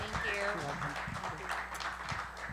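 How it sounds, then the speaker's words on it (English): An audience applauds a Senate candidate at a press conference, a steady wash of clapping heard under a speaker's voice. "So please give Cara a big round of applause."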